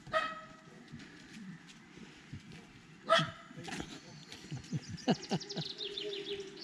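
A small yappy dog barks outdoors near a bridge by a park in Schengen: a few sharp, fairly distant yaps stand out over faint outdoor background with occasional bird sounds.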